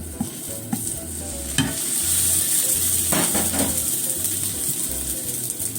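A potato galette fries in a pan with a steady, close sizzle, interrupted by scraping and clicking knocks of a utensil against the pan in an uneven rhythm.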